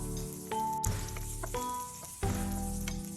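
Chopped onion sizzles steadily in hot oil in a pan for a vegetable and mushroom sauté, with brief scraping stirs and clinks breaking through the continuous frying hiss.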